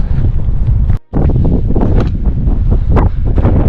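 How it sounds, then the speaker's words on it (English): Strong headwind buffets the microphone on a mountain hiking path near O'Malley Peak, a loud continuous rumbling roar with gusty surges and one brief dropout about a second in. "I've been walking into this headwind the entire time. I'm sure, as you can hear"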